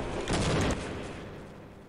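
A short, dense burst of soldiers' gunfire in the Half-Life video game, loud and rattling for a moment before it drops into a lingering, noisy roar.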